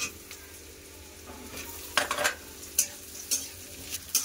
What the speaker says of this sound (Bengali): পেঁয়াজের সাথে আলুটা 5 মিনিট ভেজে নিয়েছি